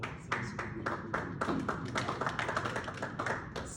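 Audience clapping at a gathering celebrating a young organization's anniversary, a dense steady patter of many hands with no voices over it, moderately close and fairly even throughout.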